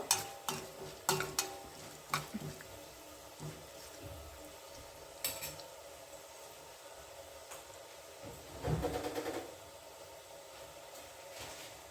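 Urad dal, mustard seeds and a dry red chili frying in hot oil as a tempering, giving a fairly faint, intermittent crackle and sizzle with a few sharp pops and a brief louder spattering burst near the end.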